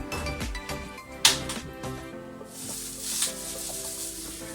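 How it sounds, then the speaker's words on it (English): Vegetables sizzle while being stir-fried in a pan for sweet and sour chicken, a soft steady hiss broken by sharp clinks of a utensil against the pan. "now that we're stir frying the vegetables"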